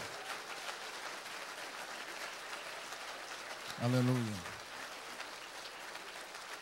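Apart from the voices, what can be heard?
church congregation applause for Yeshua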